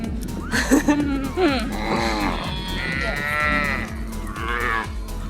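Cows moo in long, low drawn-out calls, several overlapping, with people talking nearby.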